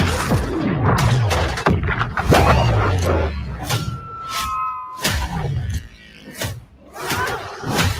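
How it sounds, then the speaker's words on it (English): Deep booming explosions and crashes rumble one after another in a video game trailer, mixed with shouting and dramatic game sound effects. "We sure cause a lot of explosions."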